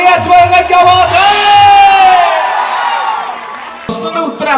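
A crowd at a comedy stage show cheers and whoops loudly, the noise swelling and then fading, with a voice calling out over it and scattered clapping near the end.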